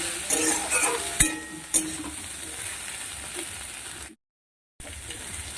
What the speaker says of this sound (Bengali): সেটা দিয়ে দিলাম হালকা করে সবজির সঙ্গে আমি আদাটাকে ভেজে নেব